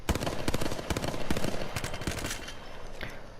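Hemlock assault rifle in Apex Legends firing rapid bursts of close, loud shots that run steadily for a few seconds with no talking.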